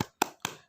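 A classroom "spirit clap" before a fifth-grade math lesson: two short, crisp hand claps, evenly spaced and close.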